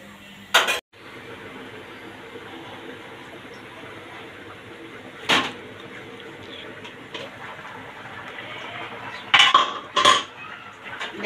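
A lid goes onto a cooking pot holding a watery curry, with a few sharp metallic clanks and clinks of pots and utensils spaced out over a quiet kitchen hum.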